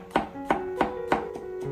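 Knife slicing peeled garlic cloves on a cutting board, four evenly spaced sharp chops at close range.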